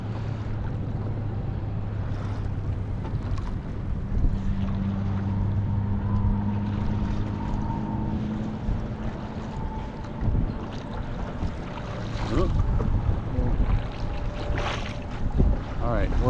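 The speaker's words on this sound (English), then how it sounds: "So the winds are so strong, I could almost just stop paddling and get pushed all the way back in." Strong wind roars and buffets the microphone while paddling a kayak on the water at the Delaware seashore, a steady loud rushing with some water sounds and no talking.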